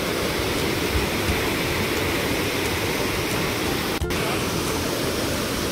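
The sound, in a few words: Lingmala waterfall, water falling from above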